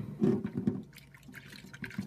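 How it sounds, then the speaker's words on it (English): Water pours into a sink holding makeup brushes, a close splashing burst at the start followed by softer trickling and dripping. "add some more water"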